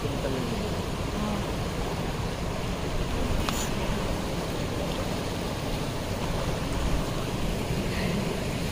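The Sheshnag river in Pahalgam, Kashmir, rushes past in a dense, steady roar of flowing water that stays constant and close throughout, with no clear voices.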